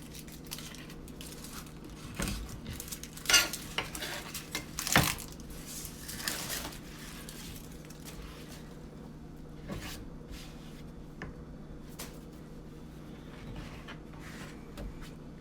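A large red onion being peeled and cut into big chunks, with soft papery crackles and scattered knife taps on a board over a steady low kitchen hum; a few louder crunches come in the first half.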